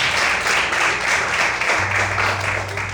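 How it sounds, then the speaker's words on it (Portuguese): A church congregation claps loudly and steadily in praise, a dense wash of applause that goes on without a break the whole time. "Vamos aplaudir o Senhor bem forte"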